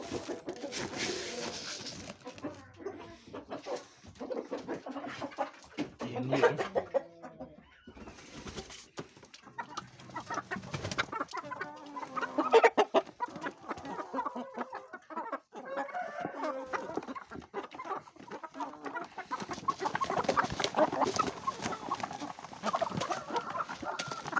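Chickens cluck and chatter nearby in irregular bursts, with other birds, including a chukar partridge, calling and an occasional rooster crow mixed in.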